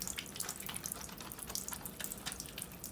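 Hands rubbing together under a running tap, steady hiss of water into a sink with faint wet scrubbing, fairly quiet and continuous with no voices.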